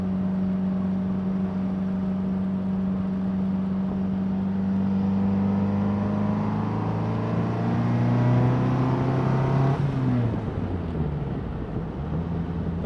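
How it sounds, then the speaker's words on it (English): A 1957 Triumph TR3A four-cylinder engine drones loudly on the move, a steady hum that climbs in pitch and then drops as the gear changes, with no talking. "Love the sound of this little four-cylinder."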